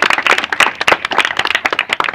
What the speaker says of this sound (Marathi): या गावासाठी एकदा जोरदार सगळ्यांनी टाळ्या वाजवल्या पाहिजेत